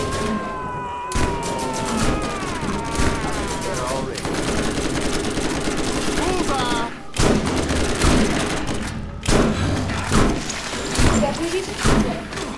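Rapid automatic gunfire from the video game Borderlands, a loud continuous burst of shots running almost the whole clip with brief pauses, mixed with other game effects and voices.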